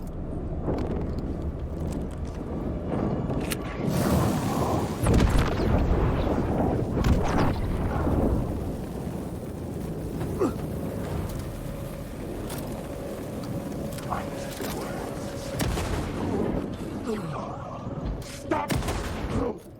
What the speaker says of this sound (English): My shotgun did not do the trick.